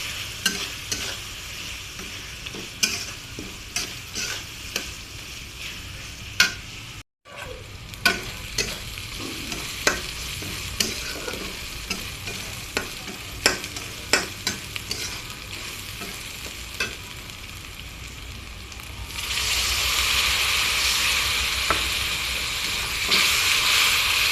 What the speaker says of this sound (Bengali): লবণ আর হচ্ছে গিয়ে হলুদের গুঁড়া দিয়ে এটাকে ভালো করে কষিয়ে নিতে হবে